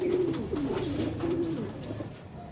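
Pigeons on a roof coo in soft, low, repeated warbling phrases, fairly close, with a faint background hiss and a few higher chirps near the end.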